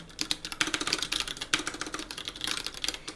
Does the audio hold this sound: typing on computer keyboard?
yes